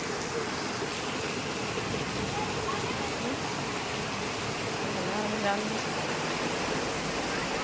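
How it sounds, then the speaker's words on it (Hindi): Steady rain falling, a dense even hiss that stays constant and fairly loud, with voices faintly in the mix. "ऐसा लग रहा है जैसे मनाली की बारिश हो"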